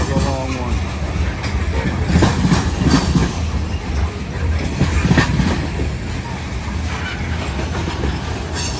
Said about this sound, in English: That was 2 trains in one at least.